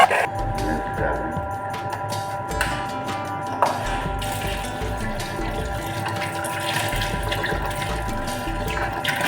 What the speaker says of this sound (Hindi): मिल्क डालें